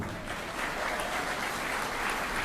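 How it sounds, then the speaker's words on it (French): An outdoor crowd at an Olympic flame ceremony in Petit-Bourg gives a steady, moderately distant round of applause that stays even throughout, with no voices rising above it. "je voudrais vos applaudissements pour Jocelyn Martia, s'il vous plaît."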